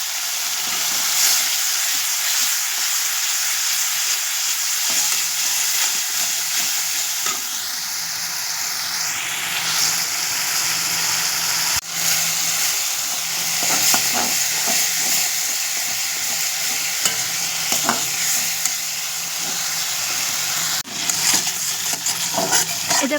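Bhola fish curry masala sizzles and fries steadily in a pan while a spoon stirs and scrapes through it, continuous close hissing with intermittent clinks and scrapes throughout.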